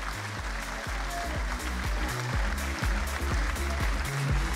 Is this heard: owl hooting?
no